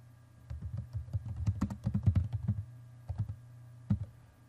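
Series name being typed on a computer keyboard, close clicky keystrokes in quick irregular bursts, a pause, then a few more taps against a low background hum.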